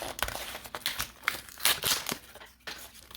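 Cured silicone torn out of a corner of a large mold, giving close, rustling, crinkly peeling and ripping noises in irregular bursts that run throughout, with no talking.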